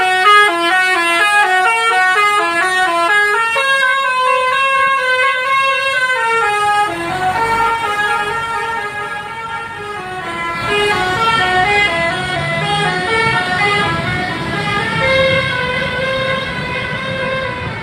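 A Basuki V3 telolet musical horn on a bus plays repeated melodic tone sequences, shifting between rising and falling patterns, loud and close over a low vehicle rumble, with no voices.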